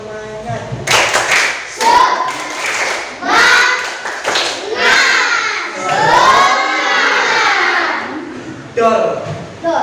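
Schoolchildren in a classroom clap a rhythmic spirit routine in quick bursts, mixed with loud group shouting and cheering, close and energetic throughout.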